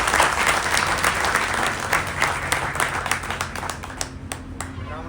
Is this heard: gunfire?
no